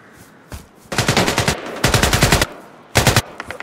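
Automatic gunfire in the shooter game Project L33t comes in three rapid bursts, close and loud, with brief quiet gaps between them and no talk.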